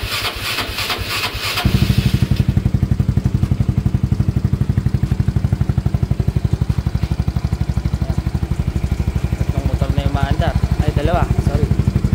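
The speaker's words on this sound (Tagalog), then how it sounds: "Dalawang motor na umaandar guys." Two motorcycles idle side by side after starting, a loud rapid even pulsing chug that stays steady for several seconds, with some faint clatter and a voice at the start.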